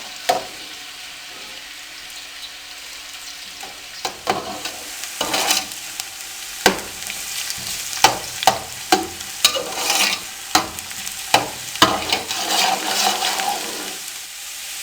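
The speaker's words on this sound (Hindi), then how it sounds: "अब इसमें हम प्याज डाल देंगे। प्याज़ों को अच्छी तरह इसमें ब्राउन कर लेंगे।" Onions sizzling and browning in hot cooking oil for chicken matar pulao, a steady frying hiss broken by repeated stirring scrapes and bursts of louder crackle, close by with no talking.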